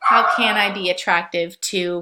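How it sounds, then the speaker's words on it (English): A pet dog yips and whimpers close by in a home, in short high bursts overlapping a person talking. "I'm so sorry about my barking dog."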